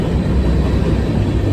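A freight grain train made up of hopper cars rolls past in Glendale, Ohio, producing a loud, steady, close rumble that stays even throughout without a break.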